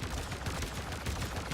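Rapid gunfire in the game Warframe during the Exploiter Orb boss fight on Fortuna, a dense stream of close, loud shots that keeps going without a break.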